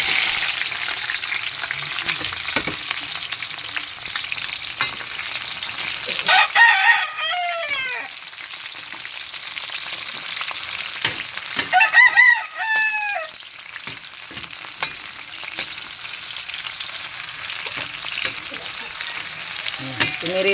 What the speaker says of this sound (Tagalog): Pinirito ko muna yung talong.